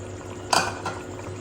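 Goat trotters dropped into fried masala in a cooking pot give one short, close clatter of metal and meat, followed by a faint brief knock and a quiet kitchen background with no speech.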